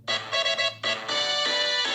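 Short bright electronic jingle from the Sonic the Hedgehog video game, a few rising synth notes in quick choppy bursts followed by a sustained tone, loud and alone.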